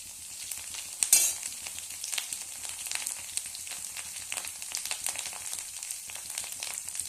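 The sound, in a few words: ginger and potato frying in a pan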